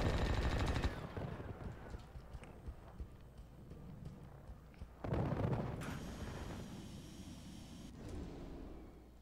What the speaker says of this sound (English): And I'm shooting at him!